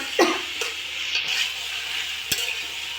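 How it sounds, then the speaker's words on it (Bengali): Okra frying in oil in a pan, stirred often for a Bengali lemon okra fry, gives a steady close sizzle broken by a few sharp scrapes and clinks of the spatula against the pan, with no talking. "একটু ঘন ঘন নাড়তে হবে আর এরকম তেল তেলা যে এরকম তেল তেলা করে দিলে ভাজিটা আসলে ভালো হয়"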